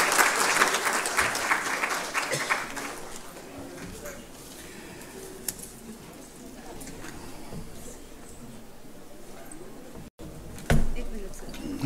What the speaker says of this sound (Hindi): और एक बार जोरदार तालियां हो जाएं माननीय मुख्य अतिथि के स्वागत।